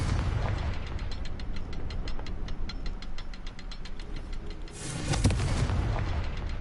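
In Hogwarts Legacy, a Confringo fire spell goes off against a constant rumbling game background. Rapid crackling pops lead to a louder, nearby explosive burst near the end.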